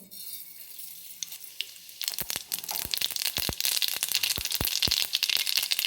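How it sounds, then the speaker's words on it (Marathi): Quiet background gives way to sharp, rapid popping and crackling as mustard seeds splutter in hot oil in a kadhai, loud and close, continuing steadily to the end. "इथे कढईमध्ये मी तेल टाकून घेतलं आहे यामध्ये मी मोहरी घालून घेते"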